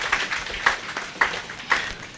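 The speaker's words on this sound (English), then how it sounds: "A round of applause for him as he approaches, please." An audience at a national dialogue event in Nalerigu applauds as a speaker approaches the stage, a thin scatter of moderate hand claps with a few sharper individual claps standing out over roughly two seconds.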